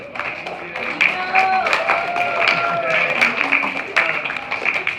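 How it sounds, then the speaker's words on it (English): Audience applause at a sixth grade awards ceremony, steady clapping from a crowd filling the room throughout, with light cheering mixed in. "give these wonderful people a round of applause"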